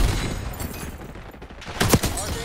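Gunfire in the video game Black Ops 6, a busy mix of shots under a constant game din, with a sharp loud burst near the end.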